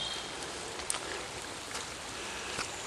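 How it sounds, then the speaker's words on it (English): Steady rain falls through woodland after days of torrential downpour, a soft even hiss with scattered drips. "Still raining now."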